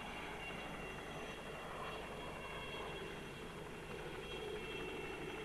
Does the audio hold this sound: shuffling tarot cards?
no